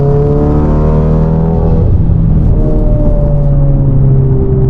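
A 600bhp Volkswagen Golf R pulls hard in fourth gear, its engine note climbing loudly and steadily before easing off, with a deep rising harmonic drone heard up close from inside the car.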